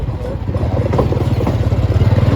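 A motorcycle engine throbs steadily up close, its pulsing rumble growing a little stronger as it pulls uphill under load on a village road.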